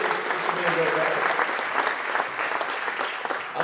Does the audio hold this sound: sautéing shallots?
no